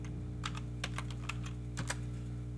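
Keys on a computer keyboard tapped in a short, irregular burst of close clicks over a steady low electrical hum, typing a command in a networking lab.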